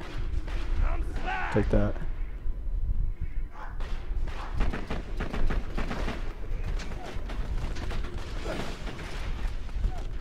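Pistol fire in the video game Borderlands 2, sounding as rapid clattering shots and mechanical game effects mixed under someone talking over the action.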